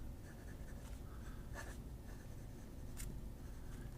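A broad steel-nib fountain pen scratches across paper in close, soft strokes, a quiet continuous scritching with a few sharper nib flicks over low room hum.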